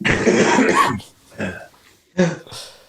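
Several coughs in quick bursts: a long rough coughing fit, then two shorter separate coughs, close and fairly loud.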